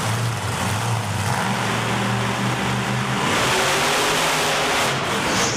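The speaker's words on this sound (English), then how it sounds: "Both trucks throttle down, just giving it everything a truck's got." Two monster trucks blast off the starting line at full throttle, engines howling loud and close, steady harmonic drones that rise in pitch and then smear into a broad roar.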